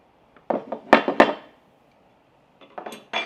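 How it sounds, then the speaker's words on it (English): Bolt and bolt carrier slide out of a Derya Arms DY12 shotgun upper during cleaning, giving a cluster of sharp metallic clacks and scrapes, then a pause and a few more clicks, close and alone. "At this point, the barrel's out, which gives us the clearance to bring out our bolt and bolt carrier."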